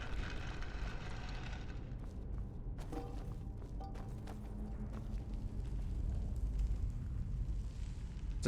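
Dragon fire breath in Skyrim Special Edition, a sustained roaring whoosh of flame with a deep rumble and scattered thuds, loud and continuous, no talking.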